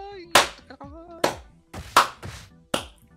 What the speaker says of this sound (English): That's a slow clap for you, man.